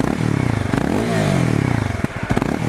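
A 2015 Honda CBR 300R ABS motorcycle revved nearby, its small engine rising and falling in pitch through quick blips with a throaty, buzzy grunt, loud and close throughout.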